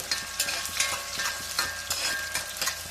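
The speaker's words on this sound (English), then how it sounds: "Make sure the oil is hot before you put the onions. And this is again mustard oil I put here." Onions fry in hot mustard oil for a Bengali mutton curry, a steady close sizzle broken by regular scraping strokes of stirring, with no talking.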